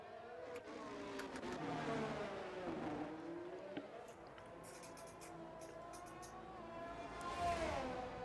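Rally car engine revving and shifting on a hot lap through the streets of Monaco, a steady droning roar with rising and falling pitch, continuous over eight seconds with no one speaking.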